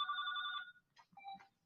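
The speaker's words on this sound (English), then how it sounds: "Pardon the phone call." Telephone ringing indoors, a bright electronic warbling ring lasting about half a second, then a short pause and a second, broken ring, fairly close and alone.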